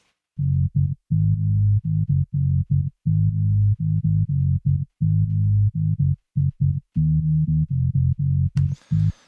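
Deep, smooth synth bass line playing a repeating phrase of sustained low notes with short gaps, ending in a brief burst of hiss.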